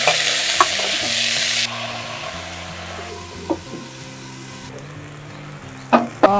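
Roselle flowers fry in oil, a loud sizzle that drops sharply after the first moments, then settles into a softer frying hum with a few spatula knocks and scrapes.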